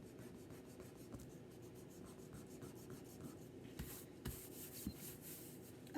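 A drawing is erased on paper with faint, close rubbing that builds into brisker back-and-forth scrubbing toward the end, with no talking.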